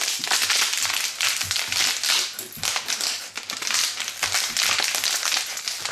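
Continuous crackling and crunching of a thin plastic water bottle dog toy in a sock being chewed and squeezed by a dog, busy and close, with no pauses or talking.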